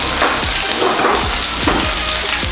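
Hot oil splattering and crackling in a pan of frying escabeche, a dense, loud, close hiss with sharp pops scattered throughout, no voices.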